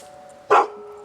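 A single sharp dog bark, loud and close, rising out of a quiet background with a steady faint hum.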